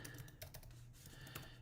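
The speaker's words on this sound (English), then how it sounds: "new keyboard, so I have to figure out how to type" Fingers type on a small green Macintosh keyboard, a quick irregular run of soft close clicks, quiet and without talk.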